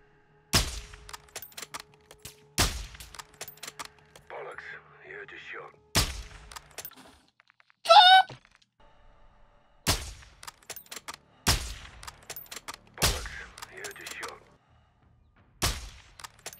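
Sniper rifle shots in Call of Duty: Modern Warfare 2 during a ghillie-suit recon mission, a series of sharp, loud cracks spaced a couple of seconds apart, with brief chatter and a short radio-like burst between them.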